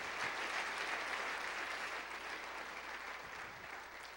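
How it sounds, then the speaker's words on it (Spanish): A church congregation applauds during a worship service, a sustained wash of many hands clapping at low volume, even and continuous, slowly easing off toward the end. "Si le va a dar un aplauso, déselo fuerte al Señor"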